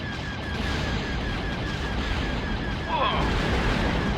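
Torpedo hits on a ship in the TIE Fighter space combat game arrive as continuous, dense rumbling booms over steady engine drone, swelling slightly louder near the end.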